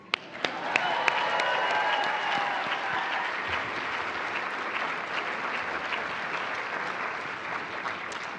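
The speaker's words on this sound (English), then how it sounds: "How about another one while they take their seats?" An audience at an astronaut candidate graduation ceremony bursts into applause, opening with a few sharp claps and settling into a long, steady wash of clapping that fades slightly toward the end.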